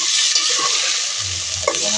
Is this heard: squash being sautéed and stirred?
yes